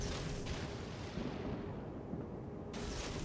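Torpedoes launched from a V170 destroyer in World of Warships, heard as a dense, continuous low booming rumble of game combat with a brighter burst near the end, loud and steady throughout with no talk.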